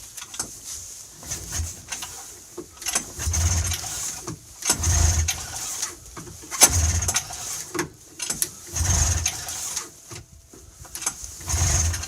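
A rebuilt Polaris Indy 600 XLT snowmobile engine is pull-started without its drive belt, with repeated cranking bursts and rough, sputtering attempts to fire that come in uneven waves with gaps between them.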